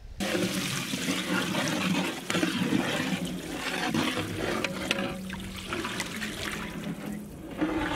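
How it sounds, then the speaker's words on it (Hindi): Water pours into a bowl of masala paste frying in ghee, a loud rushing gush and bubbling hiss that runs steadily for several seconds, close and without voices. "इसी मसालों में हम लोग थोड़ा सा पानी भी ऐड करेंगे।"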